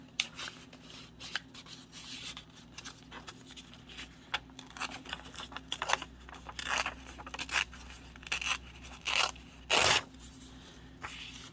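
Scissors cut paper for a craft junk journal, a quiet series of irregular snips and crisp scraping sounds close by, some louder bursts of paper rustling and cutting near the end.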